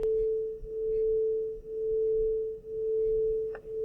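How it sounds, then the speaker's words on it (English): Two sine tones at 440 and 441 Hz played together, forming one steady pure pitch whose loudness swells and dips about once per second in regular beats, alone and without speech. "That's called beats, a rhythmic interference of close frequencies, sometimes strengthening and sometimes canceling."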